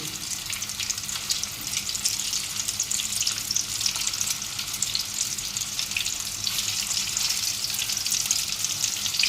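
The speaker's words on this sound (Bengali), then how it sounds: "এইভাবে হালকা হালকা করে উল্টিয়ে পাল্টিয়ে ভেজে নিতে হবে" Soybean chunks fry in oil, giving a dense, continuous crackling sizzle with bright spattering, close and steady throughout, with no speech.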